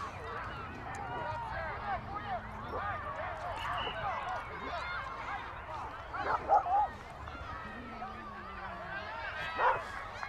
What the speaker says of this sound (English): We've got about 5 or 6 dogs, all within about 30 yards of each other.